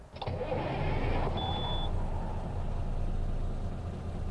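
A heavy Freightliner Cascadia truck engine, likely an ISX, in American Truck Simulator cranks and catches, then settles into a loud, steady low rumble that carries on without a break.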